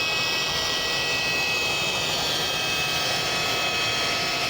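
Rotary car polisher running steadily against a painted panel, a loud continuous whirring hum that holds without stalling.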